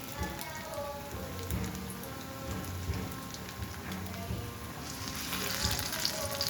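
Eggplant and potato chips fry in hot oil over a medium flame, a quiet, steady, rain-like crackle of sizzling that swells slightly toward the end.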